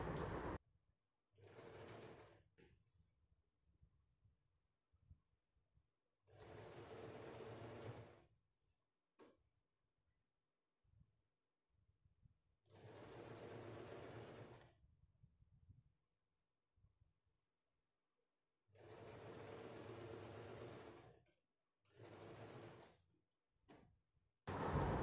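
A home sewing machine stitches a cotton kaftan-style nightie in four short, separate runs of a few seconds each, with quiet pauses between them and no talking.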